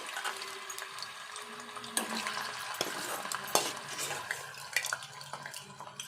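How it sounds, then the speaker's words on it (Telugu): Pre-cooked chicken pieces frying in a small amount of oil for a chicken pickle, a close, crackling sizzle with sharp spatters and clattering stirs, fairly loud and without talk. "ఇప్పుడు ఈ ఆయిల్లో వేపుకోవాలి. మంచిగా దూరగా వేయించుకోవాలి."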